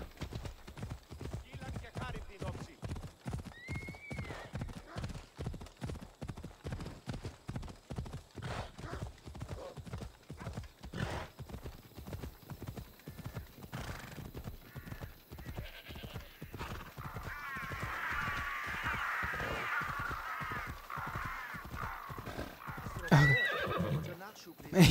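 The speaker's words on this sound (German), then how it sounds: "Pferdchen!" Horse hooves clip-clop in a steady rapid gallop through the whole stretch in Assassin's Creed Odyssey, with a whinny near the end, loud and close, while someone talks over the game sounds.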